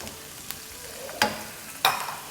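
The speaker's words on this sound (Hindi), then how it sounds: "ये मेरी 6 ग्रीन अनियन थी। सौटे करेंगे" Six green onions sautéing in a hot pan, a steady sizzle broken by two sharp clattering stirs, close and clear with no talk.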